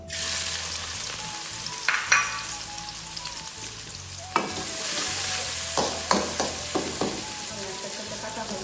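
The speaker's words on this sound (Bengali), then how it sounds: "এখন দিয়ে দিচ্ছি পেঁয়াজ কুচি।" Chopped onions fry and sizzle in hot oil in a pan, with a steady crackle and occasional stirring clatters and scrapes of a utensil, close and continuous with no talking.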